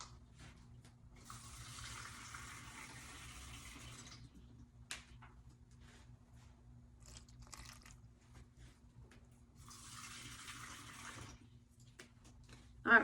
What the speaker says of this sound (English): So I'm going to go over to my sink and get a cup of water.